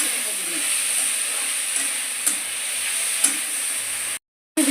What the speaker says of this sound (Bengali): এবারে সেদ্ধ করে রাখা জল ঝরিয়ে রাখা বাঁধাকপিটা দিয়ে দিচ্ছি, দিয়ে সমস্ত কিছুর সঙ্গে ভালো করে কিছুক্ষণ নাড়াচাড়া করে ভেজে নিচ্ছি।